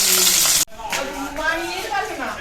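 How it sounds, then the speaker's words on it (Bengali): A stinging catfish (jiol fish) fries in a pan in a home kitchen, giving a loud, dense sizzle for the first moment before it cuts off abruptly. Quieter kitchen sounds and a faint voice follow. "একদিকে চাপিয়েছি জিওল মাছ ভাজছি"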